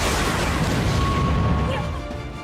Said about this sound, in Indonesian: tiba-tiba muncul kilatan kuning disertai dengan ledakan